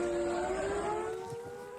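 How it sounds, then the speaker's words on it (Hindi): A civil defense air raid siren wails in Haryana, India, its steady rising tone sustained and moderately loud throughout, with no voices over it. "आज सुद्धा अशा पद्धतीचा सायरन आता हरियाणामध्ये वाजवला जातोय"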